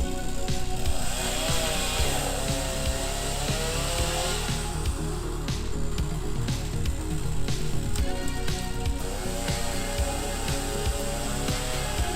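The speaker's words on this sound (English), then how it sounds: "this chainsaw works great" An Echo CS-490 chainsaw roars continuously, its engine pitch rising and dipping as it bites through thin saplings in a field, with crackles and snaps of cut branches.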